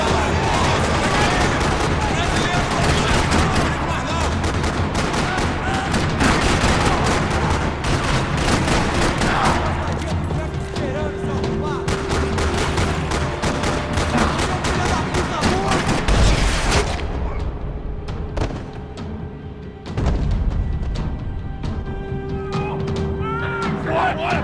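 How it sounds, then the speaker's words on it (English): Loud sustained gunfire rattles through a parking lot in the video game Max Payne 3, with dense overlapping shots and bursts filling the whole stretch, briefly thinning near the end. "Another parking lot rattling with gunfire."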